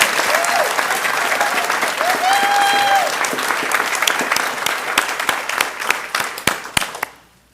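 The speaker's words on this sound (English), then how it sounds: "Let's say one more round of applause for all of our AVID standouts." An audience at a school board meeting applauds an honoured group of students, a loud, dense round of clapping with a brief whoop, thinning into scattered claps before fading out.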